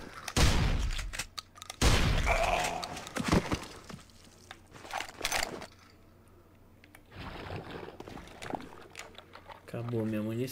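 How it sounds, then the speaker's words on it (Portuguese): Bursts of machine gun fire in the survival horror video game Heaven Dust 2, sharp repeated shots in short clusters separated by quieter gaps, with other game sounds and someone talking over them. "Então vai ser tiro de metralhadora que eu não quero gastar bala nisso."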